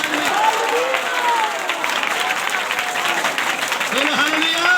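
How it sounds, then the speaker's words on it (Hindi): A crowd at a Hindi-language church sermon claps loudly and continuously, applause filling the space while voices rise over it. "जोर से ताली बजाए"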